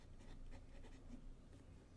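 Fountain pen nib with a blue ink cartridge scratching softly across smooth Rhodia paper, a faint continuous rasp of short strokes against quiet room hiss.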